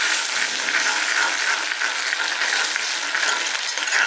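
Egg stir-fry with onions being stirred in a hot pan, a continuous bright frying crackle and hiss, close and even throughout, with no voices.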